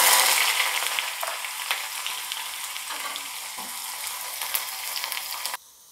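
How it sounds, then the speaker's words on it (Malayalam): Chopped shallots hiss and sizzle in hot oil with popped mustard seeds, a steady close frying roar with occasional crackles and stirring scrapes that cuts off abruptly near the end. "നമ്മുടെ കടുക് പൊട്ടിയിട്ടുണ്ട്, നമുക്കതിലേക്ക് ഇച്ചിരി ചെറിയ ഉള്ളി അരിഞ്ഞത് ഇട്ട് കൊടുക്കാം."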